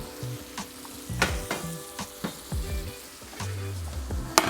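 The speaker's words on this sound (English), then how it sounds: "It's sizzling pretty high now" Cauliflower sizzles loudly in a hot pan for a spicy vegan dish, with a continuous frying crackle broken by sharp clinks and scrapes of stirring utensils.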